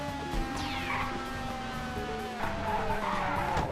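Car tires squeal and skid during a drift in the Go Vacation video game: a long, sweeping tire screech that slides downward in pitch, then a second squeal near the end over a steady engine drone.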